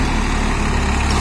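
A New Holland 3032 35 hp tractor pulling a 9-tine tiller runs at about 1200–1300 RPM, a loud, close, steady diesel drone with a throbbing low-end pulse and no voices over it.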